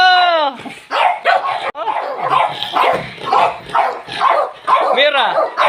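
Several dogs bark and yip excitedly indoors, high-pitched and close, with a person talking over the commotion.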